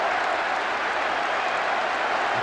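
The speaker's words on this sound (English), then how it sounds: "The crowd expressing frustration." Stadium crowd noise from the football video game PES 2010 on PS2: a dense, steady roar of a large crowd that holds at an even level throughout, with no commentary over it.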